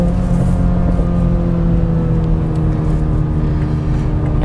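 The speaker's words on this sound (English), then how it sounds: "kind of romping on it through that little on-ramp curve, this car does feel pretty good" A 2021 Toyota Supra 2.0 engine accelerating hard through an on-ramp curve, heard from inside as a loud, steady drone with rising engine tone and road rumble, no talk over it.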